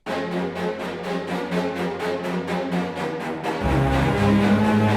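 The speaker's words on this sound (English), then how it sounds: "And then eventually these staccato strings come in." Short, rapid staccato string notes pulse in a steady rhythm over a dense orchestral backdrop, before a deeper sustained layer swells in underneath.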